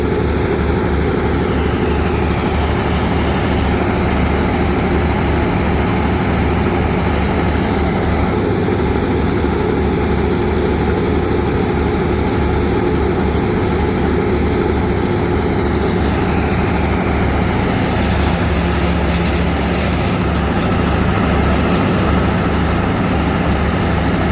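A large uprooted tree, about the size of an elephant, is fed into a grinding machine in Canada. The engine gives a loud, continuous low roar that holds steady throughout, with no talking.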